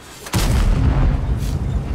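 A French light tank's main gun fires once in a video game, a sudden loud boom with a long rumbling low tail that stays heavy to the end.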